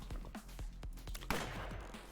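Shotgun blasts in the card-based brawler Fights in Tight Spaces, a series of sharp, punchy reports spaced about a quarter second apart, with a heavier blast near the end over a steady game backdrop.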